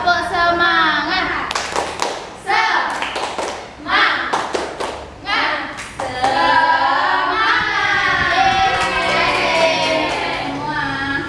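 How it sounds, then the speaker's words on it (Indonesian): An elementary school class stands and performs a rhythmic spirit clap, with bursts of claps, taps and thumps in a set pattern alternating with children chanting and singing loudly together up close. "1, 2, 3. Tepuk semangat."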